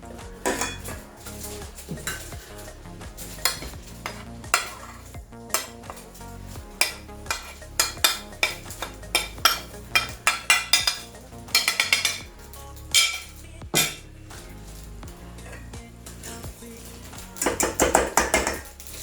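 Spices being pounded and crushed by hand for an Egyptian mafatka sweet, heard as a run of sharp, close knocks and grinding scrapes that speed up into dense bursts, with metallic clatter from the cookware in between.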